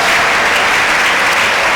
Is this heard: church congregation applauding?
yes